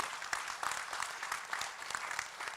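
Audience at a Patanjali Ruchi Soya business event in Indore clapping steadily, a dense and fairly soft wash of applause held for a couple of seconds.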